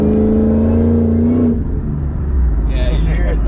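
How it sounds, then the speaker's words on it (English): Supercharged Ford SVT Lightning pickup accelerating, heard from inside the cab with the windows up: a loud, steady engine roar with a rising whine over the first second and a half, then a deeper rumble. "if you really want to hear the supercharger"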